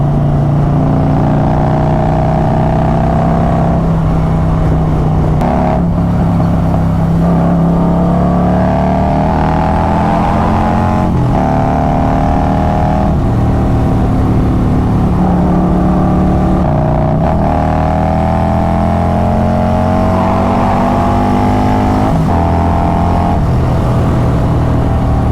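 A Stage 2 Harley-Davidson Road Glide with a Khrome Werks 2-into-1 Outlaw exhaust revs hard and runs loud and close, its deep engine note rising and falling through repeated throttle pulls over a steady rumble.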